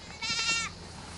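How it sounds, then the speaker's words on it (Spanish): One goat gives a single short nasal bleat, close and fairly loud, lasting about half a second against quiet outdoor background. "Cabra."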